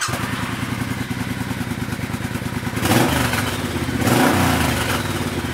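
A motorcycle engine, hooked to a laptop ECU tuning tool, runs at a steady close, clattery idle, then gets two short blips of throttle that briefly raise the revs before settling back.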